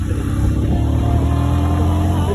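A truck drives along a road, its engine giving a steady, close, continuous low rumble with road noise throughout and no voices.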